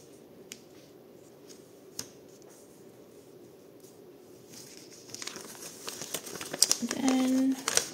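Magazine paper folded and creased by hand into an envelope, with a few soft crinkles and snaps early on, then denser crackling handling building toward the end, close and moderately loud under quiet talk.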